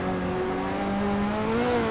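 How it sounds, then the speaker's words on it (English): Ferrari engine note in the Hot Wheels Unleashed racing game: a steady, loud, rising engine drone with strong tonal harmonics, continuous throughout with no distinct backfire pops. "The backfire on his Ferrari is, like, atrocious."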